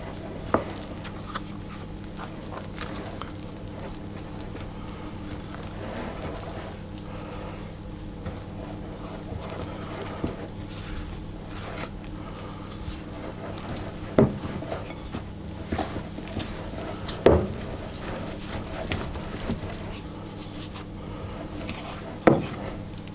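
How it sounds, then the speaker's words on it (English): Bread dough for a no-knead white loaf is stirred and scraped around a mixing bowl with steady soft rubbing and occasional louder knocks against the bowl's side, close and alone without talk. "I'm scraping the side of the bowl"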